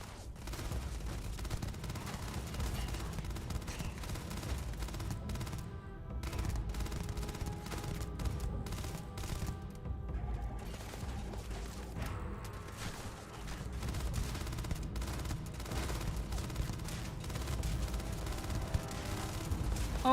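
Sci-fi gunfire in the space game Starfield crackles in rapid, dense bursts across twenty seconds, a steady medium-loud rattle of shots with brief lulls and no talk.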